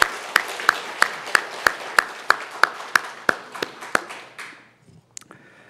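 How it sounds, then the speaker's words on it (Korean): A church congregation at a Sunday worship service claps for the choir in a steady, even rhythm of about fourteen sharp claps, which thin out and fade to near silence at the end. "우리 다시 한번 격려하는 박수 한번 보내드릴까요?"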